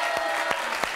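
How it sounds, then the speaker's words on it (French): Audience applause for a guest named Anthony on a French television talk show, a steady wash of clapping from many hands with a few sharper claps, loud and continuous throughout. "On peut l'applaudir très très fort."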